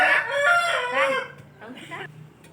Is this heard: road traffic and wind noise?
no